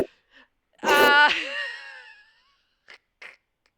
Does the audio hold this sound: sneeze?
yes